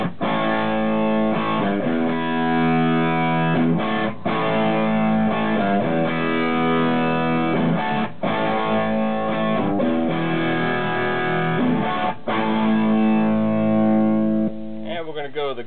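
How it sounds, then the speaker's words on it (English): Electric guitar played through a Himmelstrutz FETTO high-gain distortion pedal, dense saturated chords ringing continuously with brief pauses between phrases, loud and close, no talking. "Here's the FETTO, it's one of my favorite high-gain distortions."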